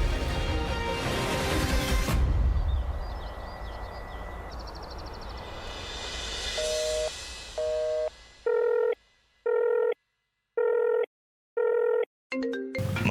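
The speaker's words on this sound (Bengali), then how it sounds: "সাক্ষ্য ফোন করছে।" A telephone rings with an incoming call during a Bengali TV drama scene, a series of evenly spaced electronic ring bursts following background music.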